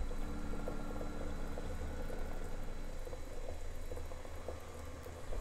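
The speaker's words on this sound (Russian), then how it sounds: "Такое яйцо варится ровно 5 минут." Eggs boil in a pot of water, giving a steady, dense bubbling and rumbling that continues evenly throughout, close and moderately loud with no voices.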